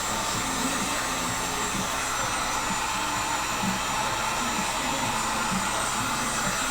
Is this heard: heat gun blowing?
yes